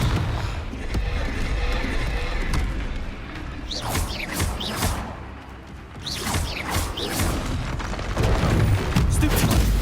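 Repeated Confringo blasting spells in Hogwarts Legacy, a series of booming magical explosions with whooshes, continuous and loud amid dense battle noise.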